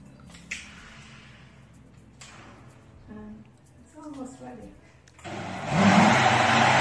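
Food processor whirring loudly as it starts blending soaked pumpkin and onion, coming in near the end after someone talks over quieter background sound.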